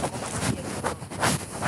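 Steady wind buffeting a microphone while test-flying a model aircraft, a broad rushing roar that swells and eases in gusts throughout, with no voices.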